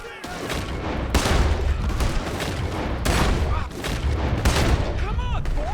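Dense, echoing gunfire from a Red Dead Redemption 2 shootout, loud bursts of overlapping shots pounding steadily across the whole stretch with heavy low booms, while voices shout beneath the din.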